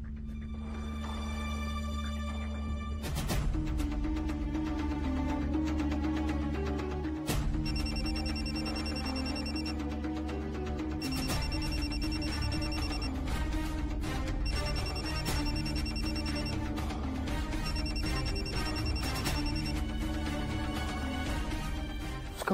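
A telephone ringtone plays a repeating high electronic melody in regular bursts over a steady, fairly loud musical backdrop, with no one speaking.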